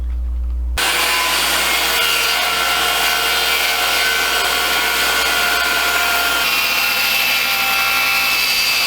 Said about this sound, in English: Now we're going to do our best to cut an angle all the way down this 2x4, which will form the back brace across the top.